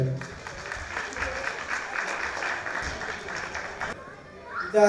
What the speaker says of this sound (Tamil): எங்க உங்க கரகோஷங்கள்